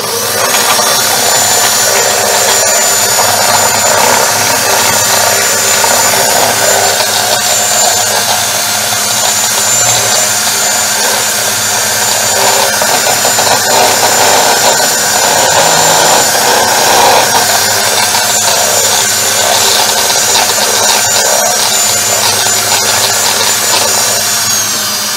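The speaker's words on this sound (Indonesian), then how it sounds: "Jadi dia di mixer sampai mengembang kayak gini, dibalik nggak tumpah." An electric mixer whips egg whites at a live baking demo, a loud, steady, whirring drone running unbroken for the whole stretch, close and alone with no talk.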